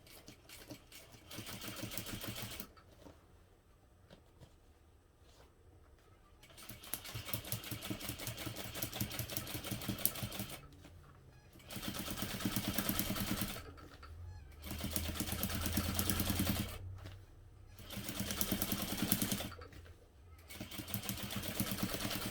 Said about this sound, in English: then do the same thing down the other side of the seam